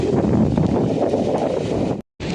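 Strong wind buffets the microphone on a fishing boat off Aklan, a loud continuous rushing roar that cuts out briefly near the end.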